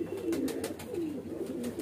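Medium-sized pigeon cooing close by, a soft rolling low coo repeated in a couple of gentle swells, with no talk.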